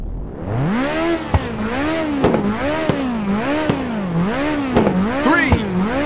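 Race car engines rev at the start line at Hurricane Skyway in the PSP game Ridge Racer 2, rising and falling in a loud, repeated wavering whine with sharp clicks in between. No other sounds break in.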